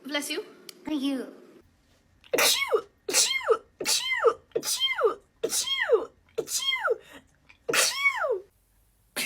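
A run of about seven sharp sneezes in quick succession, each loud and close, with brief pauses between them, following a short stretch of talking at the start.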